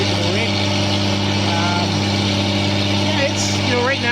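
A mineral exploration drill rig at a camp runs with a constant loud, humming drone and steady low tonal components. Speech is present over it.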